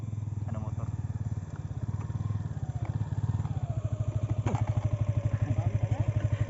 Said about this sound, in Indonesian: Ada motor.